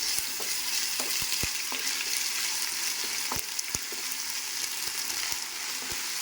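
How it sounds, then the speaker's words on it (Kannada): Ginger garlic paste frying in hot oil for country chicken dum biryani, a loud, constant sizzle close by, broken by scattered clicks and taps of a spoon stirring in the pan. "ಈಗ ಇದರೊಳಗೆ ಒಂದು 2 ಸ್ಪೂನಷ್ಟು ಜಿಂಜರ್ ಗಾರ್ಲಿಕ್ ಪೇಸ್ಟನ್ನು ಹಾಕಿ ಫ್ರೈ ಮಾಡೋಣ."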